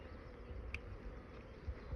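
Honeybees buzzing inside a hive, a low, faint, continuous hum with a brief higher-pitched whine partway through and no voices.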